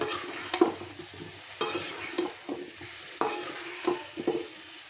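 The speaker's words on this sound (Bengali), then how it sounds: "তরকারিগুলো আমি এখানে ভালো করে কষিয়ে নিব" Teasel gourd, potato and other vegetables sautéing in spice paste: a soft sizzle broken by irregular spatula scrapes and knocks against the pan, close and moderately quiet, with no speech.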